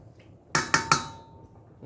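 Seafood alfredo penne with shrimp, lobster and crabmeat stirred in a pot, giving three quick, bright metallic clinks of a utensil against the pot in close succession, loud and close, then quiet.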